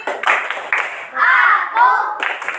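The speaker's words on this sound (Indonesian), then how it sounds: "Tepuk konsentrasi." A class of children does a rhythmic concentration clap, sharp bursts of hand claps in a patterned beat, mixed with children's chanting voices at close range.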